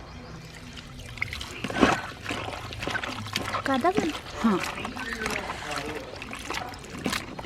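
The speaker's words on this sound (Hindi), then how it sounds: "करेले को 2 पानी धो के मैंने निचोड़ लिया है" Bitter gourd is rinsed and swished in a bowl of water while kitchen preparation goes on, trickling and sloshing sounds mixing with someone talking over them.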